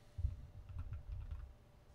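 A client name typed on a computer keyboard: a short, close burst of soft key clicks in quick succession, with no voices.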